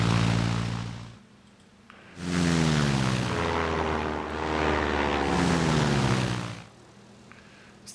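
Propeller aircraft engines in the World War I flight game Sid Meier's Ace Patrol, a loud droning buzz that drops away briefly, then returns with rising, wavering pitch before fading again near the end.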